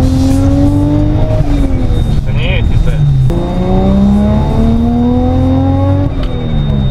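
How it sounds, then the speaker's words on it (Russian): A Japanese-market car with a loud aftermarket exhaust revs and accelerates up close. The engine note rises and falls through several pulls, with tire noise in the mix and talk over it. "Громкий выхлоп, вот такой громкий выхлоп"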